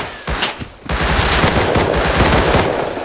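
Rapid automatic gunfire in the survival game Rust, a loud sustained burst of shots after a few brief separate cracks, with no talk.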